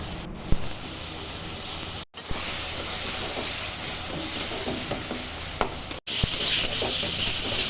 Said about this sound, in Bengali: কড়াইয়ের তেলে কালো জিরা ফোড়ন দিয়ে তারপর দেব টমেটো কুচি মিনিট খানেক নেড়ে দেব